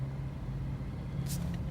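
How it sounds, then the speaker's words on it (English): Jeep Wrangler JK on 37-inch tires with a failed power steering system, its engine idling in a steady low rumble with a faint brief hiss near the end. "Just to show you, the Jeep is running."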